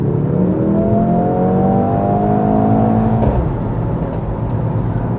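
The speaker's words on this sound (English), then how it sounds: "maybe you could hear those exhaust crackles" A 2025 Mercedes-AMG GLC 63 SUV engine revs loudly and steadily, its pitch climbing, then drops off with a few faint exhaust pops and crackles as the throttle lifts.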